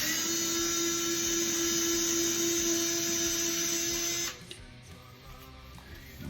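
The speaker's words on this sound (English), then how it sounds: "Take out these two side screw drywall screws." Power drill whining steadily as it backs drywall screws out of a thermostat mount, a loud, sustained motor tone that cuts off abruptly near the end, leaving quieter handling sounds.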